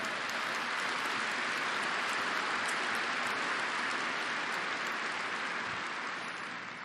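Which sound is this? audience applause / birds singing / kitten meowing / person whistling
audience applause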